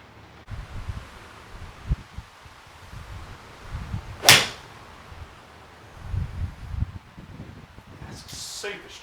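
A single crisp strike of a Titleist 718 AP2 forged iron against a golf ball outdoors, a short muted click standing out over wind noise and faint rustling.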